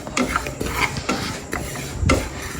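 A spoon scrapes and stirs dry fennel seeds roasting in a metal pan, repeated rasping strokes in an uneven rhythm, close and fairly loud, with no talking.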